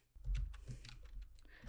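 Computer keyboard being typed on while entering Python code, a short burst of several quick, close key clicks with no talking.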